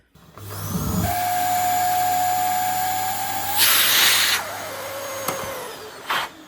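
A vacuum cleaner with a motor like a Dyson DC07, DC08 or DC14 runs steadily and loud with a rising whine, then a burst of rushing airflow as its suction release valve opens before the motor winds down.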